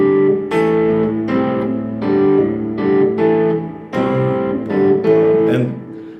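An electric guitar plays a song in clean sustained chords with bass notes falling on set beats, about eight strums in an even, loud rhythm.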